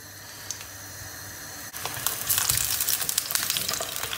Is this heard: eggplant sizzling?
yes